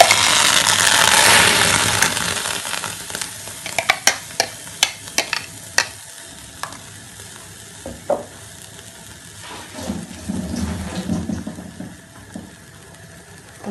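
Homemade tomato paste stirred as it fries in oil in a pan: loud sizzle at first, then a close series of sharp scraping and tapping strokes over a softer bubbling fry.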